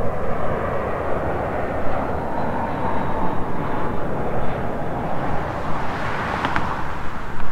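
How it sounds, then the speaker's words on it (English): An airplane landing at an airport just across the street gives a steady, broad roar of engine and airflow that holds fairly loud and even throughout, with no voices over it. "You look behind me, an airplane just landed."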